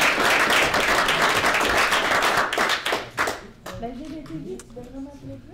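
An assembly audience at an annual general meeting applauds newly elected members, a dense round of clapping that thins into scattered claps as voices begin talking.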